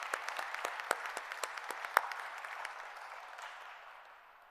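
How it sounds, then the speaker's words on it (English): Sparse, faint applause from a small audience at a food pantry event celebrating new cold-storage vans in Chicago, scattered individual claps fading out over a few seconds. "So another round of applause for all of them."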